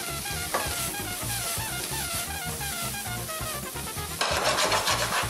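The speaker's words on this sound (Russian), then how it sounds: "Достаем его из воды и сразу выкладываем его в сковородку." Boiled udon noodles drop into a frying pan with vegetables, a constant loud sizzle and frying hiss with stirring clatter, swelling into a brighter burst of sizzling near the end.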